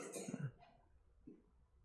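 A single faint cough during a church sermon, a short rough burst followed by a softer throat sound a moment later, distant and quiet with no talk.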